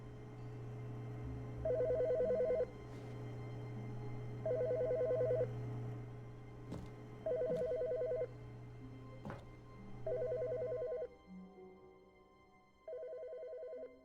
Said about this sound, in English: The phone is still ringing.